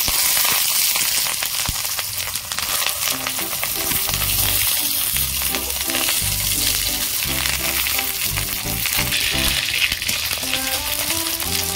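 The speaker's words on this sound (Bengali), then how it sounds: "তেল গরম হয়ে গেছে, অল্প আছে আমি পাতুড়িগুলো ভেজে নেব" Cauliflower paturi parcels frying in a little hot mustard oil in a kadai, a dense, loud, unbroken crackling sizzle with rapid popping spatters that holds steady throughout, heard up close with no voices.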